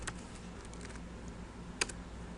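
Computer keyboard keys clicking in a short, irregular burst of typing at close range, with one sharper isolated keystroke near the end and no talking.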